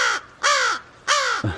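Magpies give three harsh, raspy calls in quick succession, loud and close, with short gaps of near silence between them.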